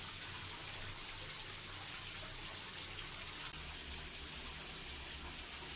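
Water fountain running steadily in a pitch black room, producing a faint, continuous splashing hiss with no breaks.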